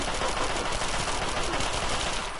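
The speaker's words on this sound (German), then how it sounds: "Euch kann ich feige von hinten erschießen." Gunfire in the video game Fallout 3, rapid bursts of shots blending into a dense, steady crackle at moderate loudness, with no speech over it.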